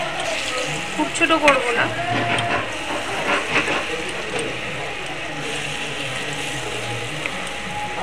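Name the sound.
lentil batter fritters frying in hot oil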